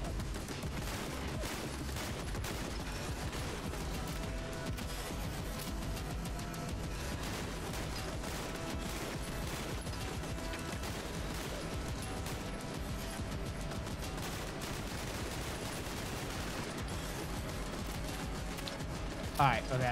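Sustained, dense turret gunfire fills the whole stretch in the video game Fallout London, loud and continuous with a mechanical rattle, while a voice talks over it.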